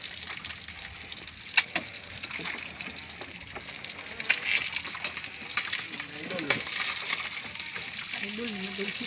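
Freshly line-caught sea fish fries in hot oil, a close, continuous sizzle with scattered sharp pops and crackles, while a voice talks briefly near the end.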